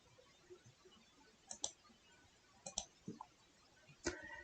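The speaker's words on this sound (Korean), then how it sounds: "검색 버튼을 클릭을 해 보겠습니다" A computer mouse clicks on a search button in the Microsoft Store on Windows 10: several crisp, close clicks come in small pairs and singles across a quiet background, with no voice over them.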